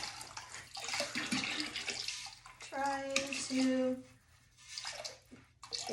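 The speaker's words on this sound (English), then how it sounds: "and slowly pour it out." Glaze poured slowly over a ceramic water dispenser, a steady liquid trickle and splash running for several seconds, fairly close, with a voice speaking briefly over it.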